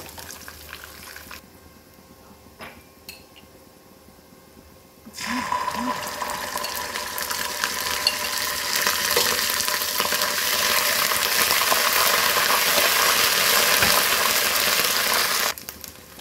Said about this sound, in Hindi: थोड़ा थोड़ा पानी ऐड करते जाएंगे और मसाले को भूनते जाएंगे।